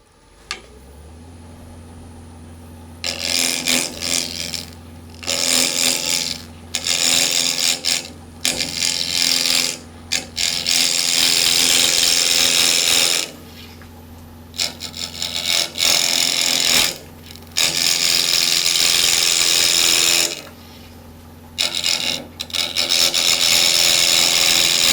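Wood turning on a lathe to shape a votive holder, with loud, harsh cutting bursts of tool against spinning wood separated by short pauses where the motor's low steady hum remains.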